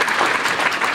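Dense audience applause at a congressional Q&A town hall, a steady wash of many hands clapping close and loud throughout, with no voices cutting through.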